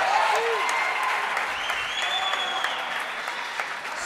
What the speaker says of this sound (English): Little applause from his opponent, De La Rosa, appreciating how well he took that.